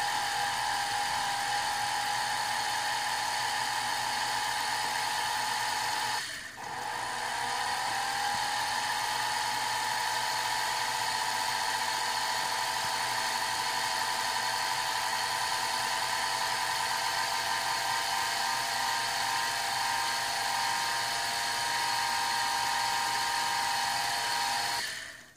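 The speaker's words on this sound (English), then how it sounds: "So I'm just going to cut a notch in this, a V-shaped notch in this, so we can part off the wheel" A lathe cuts a V-shaped notch into a clock center wheel during repivoting, a steady high whine with a constant tonal hum, briefly dipping once before continuing evenly.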